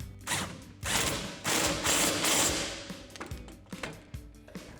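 A ratchet with a 15mm socket cranks down a suspension bolt on a 2021-2023 Ford F-150 during a lift kit install, close rasping clicks in several strokes that shorten toward the end.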